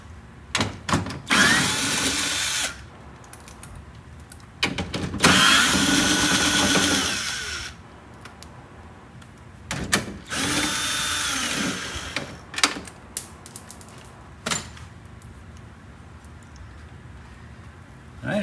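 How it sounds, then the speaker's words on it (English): A cordless drill gun runs out screws on a Ford Escape front window regulator, sounding in several loud whirring bursts of a few seconds each, separated by clicks, handling noise and short pauses. "the drill gun"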